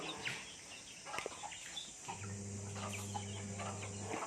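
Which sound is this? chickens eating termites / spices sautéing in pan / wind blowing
chickens eating termites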